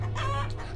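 Chickens clucking in a rural village yard, a short burst of several excited clucks and calls close by, standing alone without any speech.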